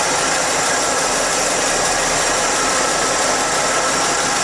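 Steady idle of the engine in a 1967 Chevy C10 after an engine swap, with a leak at the carburetor base, a constant close, even drone with a faint hiss and no speech.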